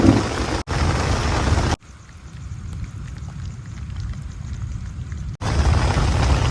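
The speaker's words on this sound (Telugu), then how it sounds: "బయట రోడ్డు తెత్తనేమో వర్షం కురిసేస్తుంది, లోపలికి వచ్చేస్తుంది వర్షం" Heavy rain pours outside at a night campsite in the forest, a loud dense hiss that drops to a muffled patter for several seconds before returning full and close.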